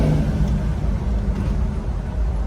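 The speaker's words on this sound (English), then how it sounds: "Got that good sound coming out the back, because that's what Chevy want to do best" Low, steady exhaust rumble from a 1968 Chevrolet Chevelle V8 at a classic car dealership, loud and close with a slightly rising rev throughout, no talking.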